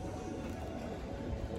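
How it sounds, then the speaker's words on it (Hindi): Malwai umbrella-crested pigeons, a mated male and female pair, coo in a continuous low murmur close by, steady and unbroken throughout. "देखिए मलवाई छतरी वाले कबूतर है भाई"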